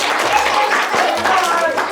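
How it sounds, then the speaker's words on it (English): Applause closing a grade 2 question-and-answer session, a short burst of mixed clapping from a small group, moderately loud with voices talking over it. "we're going to give a round of applause"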